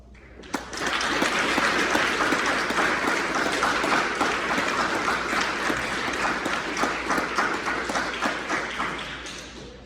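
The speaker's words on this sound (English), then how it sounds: "They deserve a round of applause." A room audience claps and applauds during a veterans' support speech in Yorba Linda, the applause starting abruptly, loud and dense, and sustained for nearly ten seconds with no talking.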